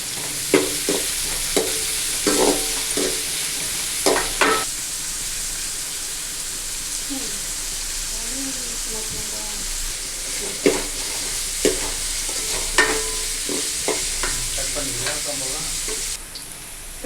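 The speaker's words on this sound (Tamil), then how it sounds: "பெரிய வெங்காயம் போட்டு நல்லா வதக்குங்க." Large onions sautéed in a pan for okra and dal buttermilk kuzhambu, with a continuous close sizzle and frequent sharp spatula scrapes and knocks as they are stirred, without talking.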